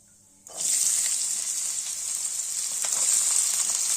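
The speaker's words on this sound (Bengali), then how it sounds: "এই সবজিগুলোকে দিয়ে একটু ভালো করে ভেজে নেবে মানে পুরো ভাজা ভাজাই করে নেবো" Chopped vegetables with whole cumin and grated ginger drop into a hot pan, and a loud, bright frying sizzle bursts in abruptly and holds steady without any talk.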